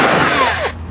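A power drill spins a 7mm bolt on the grille trim of a 2014–2019 GMC Sierra 1500 pickup: one short, loud, close burst with a whining pitch sweep, no talk.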